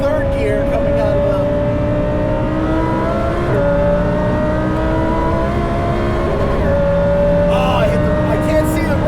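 An 870 hp supercharged Lamborghini Huracan Performante accelerates hard on a race track, its engine note climbing in pitch through the gears with brief dips at the shifts. The engine is loud and close, and someone talks over it.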